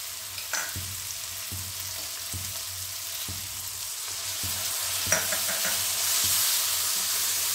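Vegetable curry masala for a Bengali turnip curry is stir-fried in a pan, a soft continuous sizzle broken by repeated spatula scrapes and stirs, close up and with no talking.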